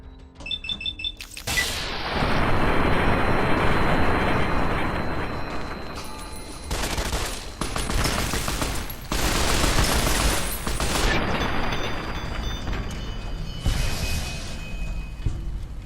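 Gunfire and explosions from the video game Fallout New Vegas, Lonesome Road DLC, with a rocket launcher in use: loud sustained bursts of shooting and blasts, broken by short pauses, with a high electronic tone under parts of it.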